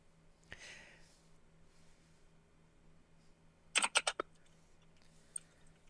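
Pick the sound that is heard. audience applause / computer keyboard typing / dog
computer keyboard typing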